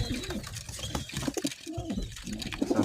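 Homing pigeons coo softly in a loft, with repeated low throaty calls and faint rustling and shuffling, heard close up without talk.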